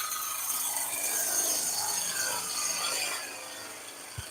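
A hand plane shaves a wooden bead with a soft, continuous rasping swish that eases off near the end, followed by a small knock, close and fairly quiet.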